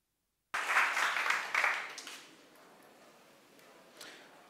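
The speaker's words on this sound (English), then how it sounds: "Round of applause." After a moment of silence, a live event audience breaks into applause for the next speaker, loud at first and then thinning into scattered claps within a couple of seconds, a few stray claps lingering near the end.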